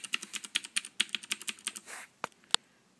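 Rapid, even clicking of keys typed on a Keycool K-1 22-key mechanical numeric keypad fitted with genuine Cherry switches, close up and alone, ending with a couple of sharper isolated keystrokes.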